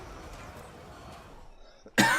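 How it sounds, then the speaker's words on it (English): A person coughs once, sharply and close, at the very end after a stretch of quiet low room noise. "I'm so sorry, guys, about all this coughing in the recent videos."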